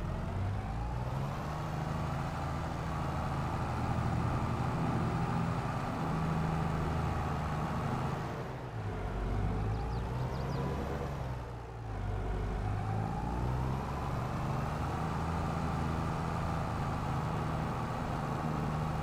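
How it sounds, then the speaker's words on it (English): Tractor engine running steadily in Farming Simulator 22, a continuous loud drone with a brief dip in the middle, heard alone without talk. "Wow, this is a fast tractor."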